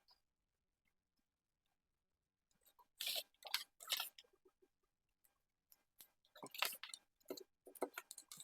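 Scissors cut out a dress pattern in crisp, close snipping bursts. Several cuts come in quick clusters after a few seconds of near silence.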